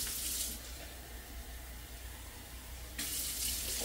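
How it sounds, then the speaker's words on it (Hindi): Water pours steadily into a cooking pot of mutton keema, about three cups, a continuous close splashing gush with a brighter surge near the end. "तकरीबन 3 कप के करीब पानी डालेंगे।"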